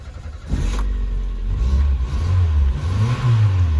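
A Renault 19 Chamade saloon engine cranks and catches with a sharp burst, then idles and revs up in rising and falling surges, loud and close with no talk.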